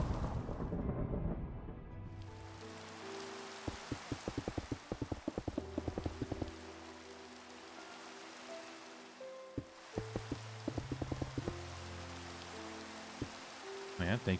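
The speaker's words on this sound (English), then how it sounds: "Oh no, the rain got it." In Minecraft with the Monifactory modpack, game rain patters steadily in the background, with repeated clip-clop-like in-game clicks in bursts over it.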